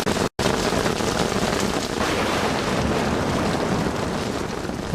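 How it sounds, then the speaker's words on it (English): Steady, dense rain falls with a breeze, a loud continuous hiss of drops and gusting air with no pauses after a brief dropout at the start. "This sound of rain and its accompanying breeze sends many to sleep"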